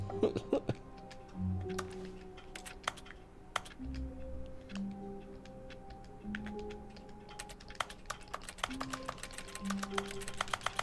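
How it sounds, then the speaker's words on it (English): Buttons on a game controller pressed during play of The Stanley Parable: Ultra Deluxe, a run of quick, close clicks and taps in irregular bursts, mostly alone over faint game sounds. "It's pressing buttons on a controller."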